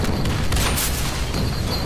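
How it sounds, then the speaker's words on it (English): Bombardment in a Deadpool video game: dense, continuous booming explosions and gunfire-like blasts, loud and close, with no pauses. "I gotta survive this, huh? Survive this bombardment?"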